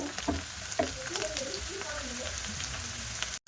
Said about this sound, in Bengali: পেঁয়াজগুলো একটু লাল লাল করে ভাজা করে নেব